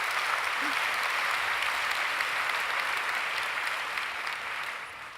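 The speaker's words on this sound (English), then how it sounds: "I think another round of applause" Sustained applause from a large conference audience at a plenary session in Hong Kong, steady and loud throughout, tapering slightly toward the end.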